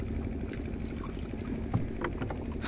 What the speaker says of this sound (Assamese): নাও বাই আছে এটা হাতেৰে আৰু জাল পাতি আছে